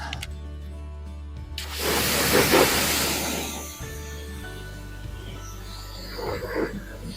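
A water spray rinses the engine bay of a car being detailed, a strong broadband hiss that swells for about two seconds, then drops back, with a softer second burst near the end.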